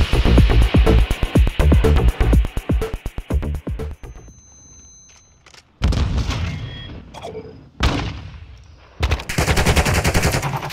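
Gunfire in Call of Duty MW2 ranked play, with bursts of rapid automatic shots, then a quieter pause broken by single heavy blasts, and more loud firing at the end.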